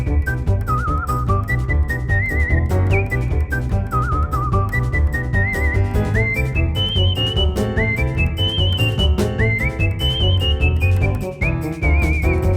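A steady tune whistled close up in a Minecraft farm-building session, bright wavering notes rising and falling in short phrases that run continuously for about twelve seconds without any talking.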